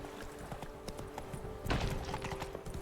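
In the Blood and Wine expansion of The Witcher 3, Roach the horse gallops with a quick, even patter of hoofbeats that grows slightly louder and busier toward the end, over a constant game background hum.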